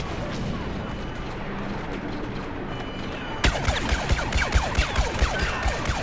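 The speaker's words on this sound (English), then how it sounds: "Okay, blaster cannon." A blaster cannon in Star Wars Battlefront on the Bespin Cloud City map fires a rapid series of loud, punchy blasts at a steady rhythm, following a stretch of rumbling battle ambience.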